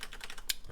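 Keys on a computer keyboard, the WASD keys, tapped rapidly in a quick run of light clicks, close and quiet, with one sharper press standing out.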